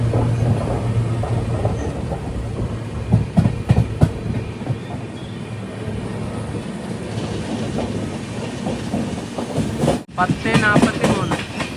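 A Garib Rath Express train pulling into Chengannur station, a steady rumble of moving carriages with rhythmic wheel clatter and bursts of louder rattling, close and continuous, briefly cut off near the end.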